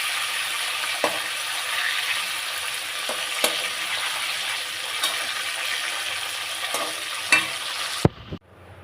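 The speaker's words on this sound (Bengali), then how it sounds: "কড়াই তেল দিয়ে ভাজি।" Oil sizzles steadily in a wok, a loud continuous frying hiss with a few sharp clicks and pops, before stopping abruptly near the end.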